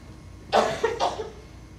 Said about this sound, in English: That cough doesn't get any better.